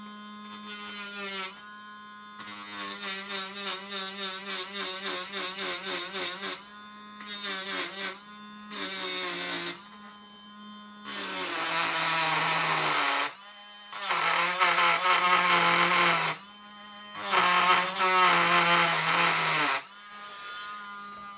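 A small power tool grinds pins while a straight razor is restored, a loud electric buzzing hum in repeated bursts of a few seconds each, separated by short pauses.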